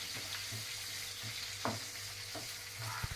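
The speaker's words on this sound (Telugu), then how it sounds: "ఉల్లిపాయ ముక్కలు కోసుకొని ఉంచుకున్నాం కదా, అవి వేసుకోవాలి. గోల్డ్ కలర్ వచ్చినంత వరకు వేసుకోవాలి." Onion pieces fry until golden for an Andhra prawn curry, a soft, steady sizzle of oil with a few quiet stirring scrapes, close but low in level, with no speech.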